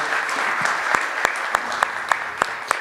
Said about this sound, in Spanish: un fuerte aplauso, le brindamos